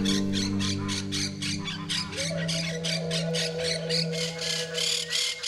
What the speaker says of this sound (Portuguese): Habitando colônias com vários indivíduos aparentados, as catorritas se comunicam o tempo inteiro.